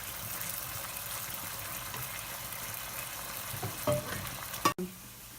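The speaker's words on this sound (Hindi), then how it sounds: "चिकन हमने मैरिनेट करके फ्राई करने रख दी" Marinated chicken frying in a pan for Pakistani-style Singaporean rice, a steady soft sizzle throughout with a couple of brief clatters near the end.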